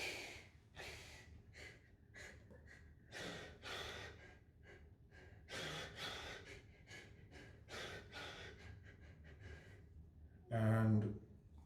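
A person breathes through a tantra neck and tongue exercise with the tongue on the palate, producing repeated soft, close inhales and exhales in an uneven rhythm, ending in one sharper, louder breath.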